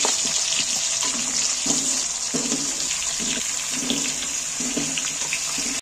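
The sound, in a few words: small potatoes frying in oil in a pan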